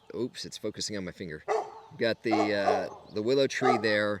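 A neighbor's dog barks outdoors near a willow tree, its yips and barks mixed in with close talking throughout.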